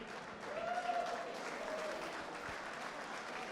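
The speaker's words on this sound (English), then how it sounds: "round of applause for both fighters" A crowd applauds and cheers for both fighters after a bout at a Lion Fighting Championships event, a steady, moderately loud wash of clapping with a brief whistle rising through it and faint talk underneath.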